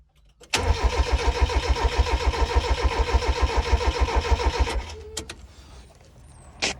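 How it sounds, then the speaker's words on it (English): Starter motor cranking a Mazda MX-5 Mk1 engine during a strip-down, a rapid even chugging that carries on for about four seconds and then stops, followed by a couple of sharp clicks and faint rattles. "I just want to see if it cranks"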